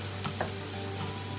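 Onion caramelizing in a frying pan for pad thai, a close, steady sizzle of hot oil with a few light stirring taps, no talking.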